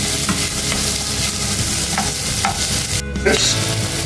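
Onion with ginger, garlic and green chilli stir-frying in a pan for a spicy egg curry: a steady close sizzle with scraping spoon strokes and a brief clatter near the end, no voices.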